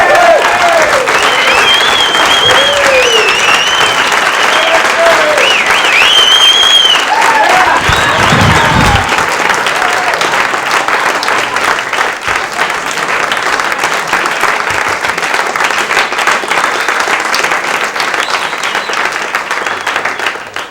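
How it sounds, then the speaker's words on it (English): Loud, sustained audience applause for comedian Barry Crimmins at a 1986 stand-up show, dense clapping with some whoops and cheers near the start, continuing steadily for about twenty seconds. "a nice round of applause for Mr. Barry Crimmins"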